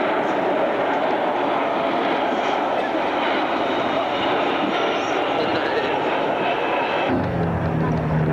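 A Boeing C-17 military transport aircraft flies past at an airshow, a loud, steady broadband engine roar filling the air that cuts off sharply near the end, leaving a lower, quieter rumble.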